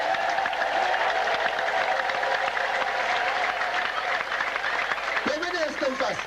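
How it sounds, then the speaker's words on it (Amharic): A church congregation applauding: sustained, dense clapping from many people throughout, with a preacher's voice speaking over it near the end. "አጨብጭቡ ለእግዚአብሔር ችሎታ።"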